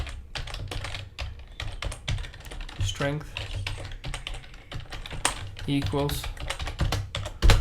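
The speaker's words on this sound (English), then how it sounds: "here you're gonna type float rotation strength" Computer keyboard typing during game programming, a quick run of keystrokes under steady talk from a man, sitting close and at moderate level throughout.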